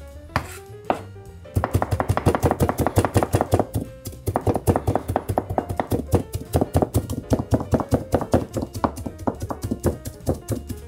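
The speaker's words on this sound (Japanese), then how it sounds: "最初に包丁で細かく入れてるんでこうみじん切りなども早いし" Fast, steady knife taps on a cutting board as an onion is finely minced, close and crisp, in a long continuous rhythm after a few slower chops.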